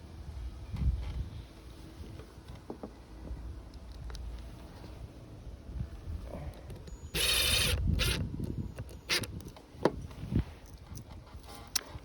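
A Phillips screw is driven into wood during an RV solar panel and charge controller install, with sealant in use. One short whirring, ratcheting burst stands out midway against a quiet, breezy background.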